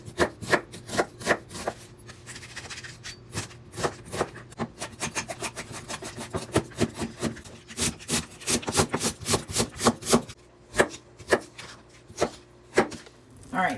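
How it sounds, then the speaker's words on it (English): A knife chops washed vegetables on a wooden board in a long series of crisp, close strikes, sometimes quick and regular, sometimes in short bursts with brief pauses. "I've already washed all my vegetables, and I'm just going to chop them all up"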